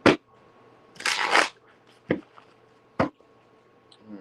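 A deck of tarot cards is shuffled by hand: a few crisp, close riffling bursts, one longer flurry followed by shorter snaps spaced apart, with quiet gaps between them.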